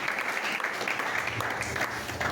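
A church congregation at a Sunday service claps together in steady, dense applause that fills the room, continuous and loud, with faint voices mixed in.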